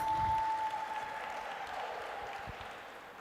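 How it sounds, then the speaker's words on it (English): Applause at an awards ceremony as an honoree is welcomed onto the stage, fairly faint and steady throughout, with a faint tone in the background. "This is where we clap."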